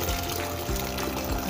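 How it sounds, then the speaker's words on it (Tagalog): Hot water poured into a pot for boiling macaroni, a steady close splashing stream filling the pot with a couple of brief changes in flow. "Mainit na tubig na rin yung nilalagay ko para mas madali na lang kumulo."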